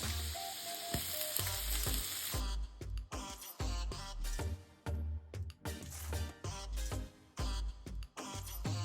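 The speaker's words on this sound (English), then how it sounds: "Saute this for 2 minutes." Garlic and ginger sauté in a wok for prawn fried rice, with a loud, close sizzle broken up by choppy stirring and scraping strokes.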